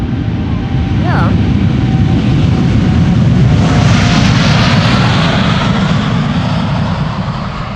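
A KLM Boeing 787 Dreamliner in new livery departs Amsterdam Schiphol, its jet engines a loud, broad roar that swells and holds steadily close by, with people talking over it.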